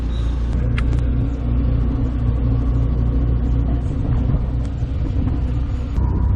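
A classic Fiat 500 with a manual gearbox, driven by an 11-year-old, drones with a loud steady low engine rumble from inside the car, the revs rising slightly over a continuous road noise.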